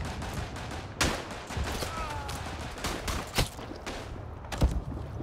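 Gunfire in the Verdun trench-warfare game as a player fires at a teammate out in no man's land: a sustained crackle of battlefield rifle and machine-gun fire with several sharp, loud shots standing out over the din.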